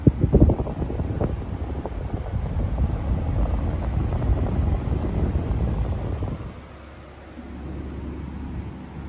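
A brand new 2025 Midea U 6,000 BTU window air conditioner runs with a steady whooshing fan roar, loud and close, then drops to a quieter hum near the end.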